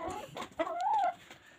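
A chicken being fed cabbage in winter clucks close by, then gives a longer, rising and falling call, with a few softer clucks around it.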